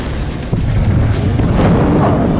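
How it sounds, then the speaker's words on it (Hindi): A bomb dropped by the Ukrainian air force bursts on a Russian troop unit in Zaporizhzhia, a sudden heavy boom that swells into a sustained, loud low rumble. "देखिए कैसे बम गिरने के बाद एक तेज धमाका हुआ"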